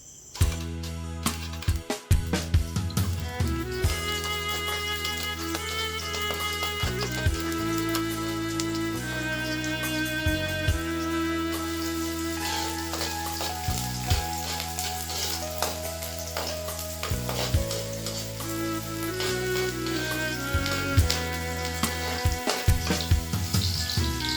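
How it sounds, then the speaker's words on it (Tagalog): Garlic, onion and tomato sizzle and crackle steadily in hot cooking oil in a pan, a dense continuous frying sound with occasional stirring clatter, close and fairly loud, with no talking. "Nabutang kita it mantika kag gisahan natin ang aton nga ahos, sibuyas kag kamatis"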